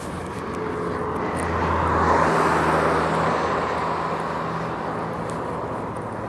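Steady road traffic rolls through a busy Halifax intersection near a bridge, a continuous wash of passing cars that swells and fades, with a low engine hum running underneath.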